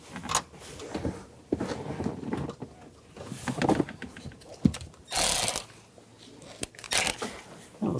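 Speaker screws being snugged down inside the rear of a 2013-2016 Dodge Dart, irregular close ratcheting clicks and scraping bursts with pauses between, plus handling rustle.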